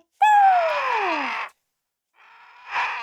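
A vulture gives a loud, drawn-out descending caw, then after a short silence a fainter, rougher second call follows, with no speech.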